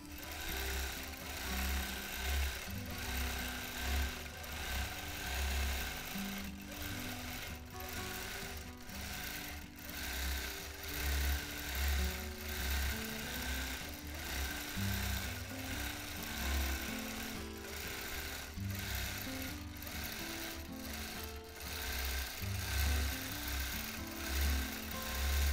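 A sewing machine doing freehand quilting runs in a steady rapid needle clatter, with slight bursts and changes in pace as the stitching changes direction, faint and close.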